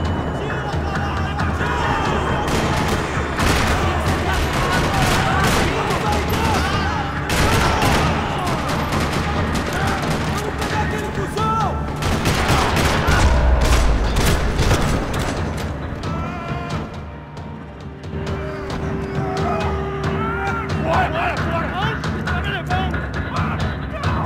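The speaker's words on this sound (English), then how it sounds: "Another parking lot rattling with gunfire" Gunfire rattles through a parking lot in the video game Max Payne 3, with rapid bursts and repeated shots over a busy battle mix, and a voice speaks partway through.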